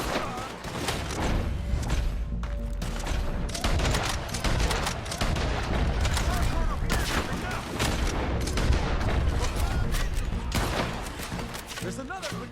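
Rapid bursts of rifle and pistol fire crackle through a Red Dead Redemption 2 shootout against soldiers, dense and continuous with heavy thuds, as shouting voices carry over the gunfight.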